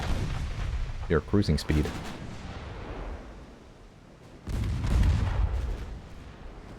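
Armored naval cruisers trade gunfire in an 1893-era naval strategy game, with a quick volley of sharp booms followed by heavy rumbling salvos and a low roar, while a voice speaks briefly.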